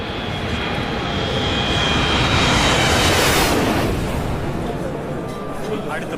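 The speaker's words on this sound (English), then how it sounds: "along with Pilatus PC-7 being led by Wing Commander Meriana, Squadron Leader Joshua." Pilatus PC-7 trainer aircraft flying past at an air show in Chennai, a loud continuous propeller engine roar that swells to a peak near the middle and then fades slightly, with crowd and commentary noise blended underneath.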